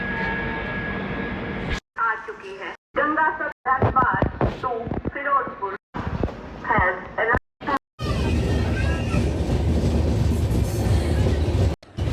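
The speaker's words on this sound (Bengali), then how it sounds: "লুধিয়ানা থেকে লোকাল ট্রেনে করে জাম্মু যাচ্ছি" A local passenger train in Punjab rumbles along with rhythmic clatter of wheels on rails, interrupted by brief cuts, with voices talking over it.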